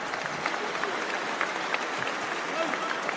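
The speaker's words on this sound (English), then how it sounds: "the crowd appreciating this fight" Crowd applauding a fight at an FCE 3 event, with steady broadband clapping and cheering filling the clip, moderately loud and continuous, with a commentator's voice mixed in.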